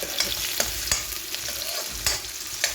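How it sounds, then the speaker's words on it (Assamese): Onions frying for a small-fish curry sizzle steadily in a pan, a continuous hiss broken by a few sharp scrapes and clinks of a spoon stirring, close and fairly loud with no talking. "পিঁয়াজখিনি ৰঙচুৱা হোৱালৈকে ভাজি ল'ব"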